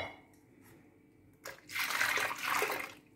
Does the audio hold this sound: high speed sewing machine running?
no